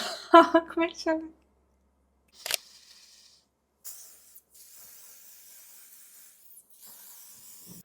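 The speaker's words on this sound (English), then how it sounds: "So you just have to like spray it very generously." Two short bursts of hissing hair product spray from a bottle, the longer one spraying steadily for a few seconds, following a person's brief talk.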